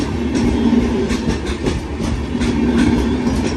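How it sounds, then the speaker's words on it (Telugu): A train rolling past a level crossing, a loud, close, continuous rumble with rhythmic clickety-clack of wheels over rail joints, no voices. "సో ట్రైన్ వెళ్ళిపోయింది, గేట్స్ ఓపెన్ అయింది"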